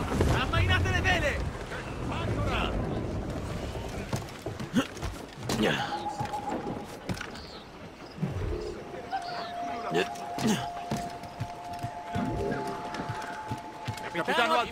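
A sailing ship in Assassin's Creed Rogue with its sails being unfurled: wind and creaking wooden rigging rush along under the sea, with scattered knocks and clatters, while crew voices shout orders over the top throughout.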